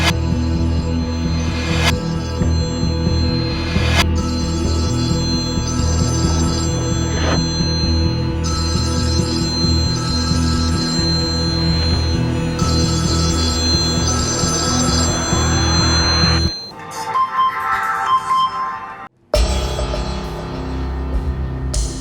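A telephone rings during a call, a repeated bright electronic ringing tone that fills most of the stretch with short regular pauses before cutting out near the end, with no voices.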